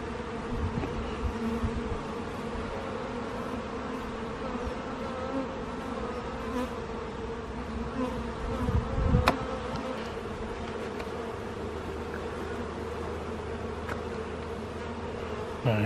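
Honey bees buzz steadily around an open beehive during an inspection, a dense, continuous hum close by with a brief louder rustle partway through, and no voices.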